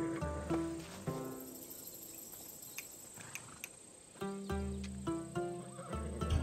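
A horse neighs and whinnies loudly at the start, then again after a quiet stretch, with soft hoof clops and faint insect chirps between, in the video game Assassin's Creed Odyssey.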